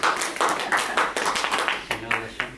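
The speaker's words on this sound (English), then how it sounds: "Now we give you a clap." Small group clapping during a casual ceremony just before a license signing, a few seconds of uneven, closely spaced claps that break into separate bursts, with brief voices mixed in near the end.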